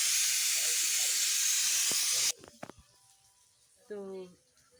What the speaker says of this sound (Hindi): दूसरा कुकर में मैंने चावल बिठा दिया ऑलरेडी